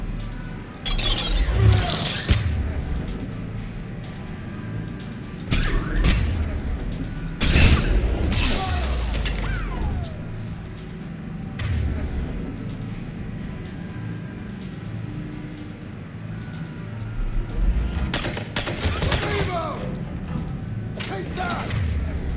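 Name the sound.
grenade explosions and gunfire in video game Mass Effect 3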